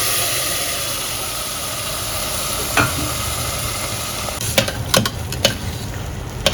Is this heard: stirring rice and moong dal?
yes